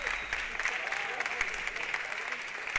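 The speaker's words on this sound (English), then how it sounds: "A roar of applause from behind us." Stadium crowd applause as England and Ireland football teams walk out for a Home Nations Cup fixture, steady distant clapping under a commentator's voice.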